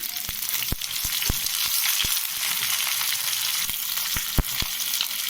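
Onions sizzling and frying in a hot pan for a tomato onion chutney, a steady close hiss with several sharp crackles and pops spread throughout.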